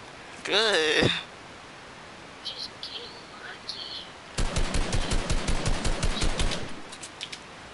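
Gunfire in the video game Fortnite: after a voice and some sparse clicks, a rapid burst of roughly a dozen sharp, evenly spaced shots rings out fairly loud, then trails off into faint taps.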